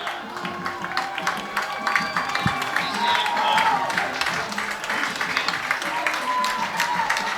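A football stadium crowd applauds and cheers steadily late in the game, a broad wash of clapping and voices filling the whole clip at a fairly even, sustained level.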